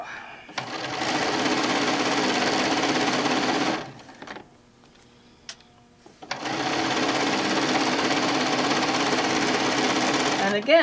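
A sewing machine with a zipper foot stitching piping for a zippered pillow, a loud steady whirring hum of the motor in two long runs separated by a short quiet pause with a few small clicks.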